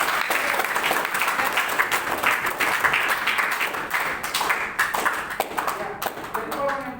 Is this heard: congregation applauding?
yes